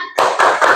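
A classroom of students gives a short rhythmic salute clap after a group presentation, three loud, close, sharp bursts of hands in quick succession with no talking.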